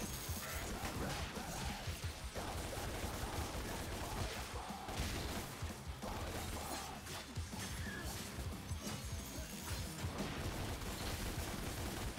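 Pistol gunfire in DmC: Devil May Cry blends into a dense, chaotic barrage of crashes and impacts, with rapid shots packed together over continuous loud action.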